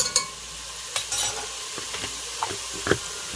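About two tablespoons of garlic sautéing in a pan, heard as a steady faint sizzle and hiss with a few brief utensil scrapes and clicks scattered through, close and quiet, with no talking.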